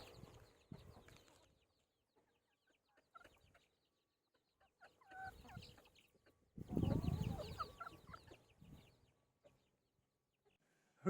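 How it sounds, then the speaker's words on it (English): Backyard chickens clucking near a compost heap, scattered soft clucks and squawks in bursts with quiet gaps, one louder flurry of agitated calls close by. "Some wine for the chickens."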